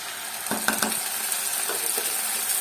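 Ginger, garlic and green chilli paste sautéing with onions in a pan for prawn masala, a steady close sizzle broken by a few light clinks and scrapes of stirring.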